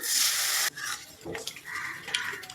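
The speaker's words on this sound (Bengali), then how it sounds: "এবার ঝোলের জন্য জল অ্যাড করে দিচ্ছি" Water splashes into a pan of sizzling fried spice paste for a prawn curry gravy: a loud hissing burst at the start that quickly settles into softer bubbling and light utensil scrapes, close by with no talking.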